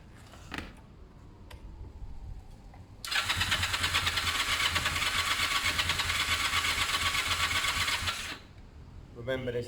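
A Honda CB250 Nighthawk motorcycle being rebuilt as a cafe racer, running without an air filter cone, starts up after a few clicks and settles into a steady, even idle for about five seconds before cutting off.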